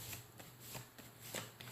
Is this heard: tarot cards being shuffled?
yes